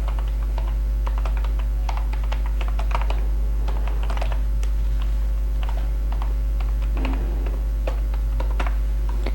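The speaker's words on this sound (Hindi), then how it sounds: "ईमेल के बाद हम अपना पासवर्ड लिख लेते हैं।" Steady typing on a computer keyboard while an email address and password are entered into a login form, with quick irregular key clicks running throughout over a constant low electrical hum, no voices.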